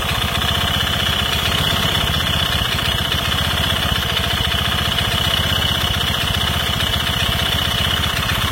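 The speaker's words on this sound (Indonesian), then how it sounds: "suara murni dari dalam mesin ya" An engine idles steadily close up, a continuous even mechanical drone with a faint rattling vibration, running alone without pause.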